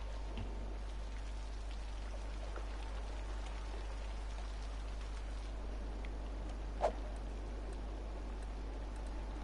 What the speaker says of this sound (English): Hope it's just rain.